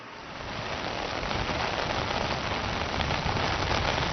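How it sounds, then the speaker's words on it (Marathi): Heavy monsoon rain in Mumbai pours down steadily, a dense, loud hiss of drops striking surfaces that swells in over the first moment and holds without a break. "सकाळपासून खरं तर मुंबईत मुसळधार पावसाला सुरुवात झालेली आहे"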